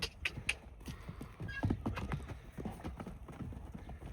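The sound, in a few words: horse hooves clip-clopping, mare and foal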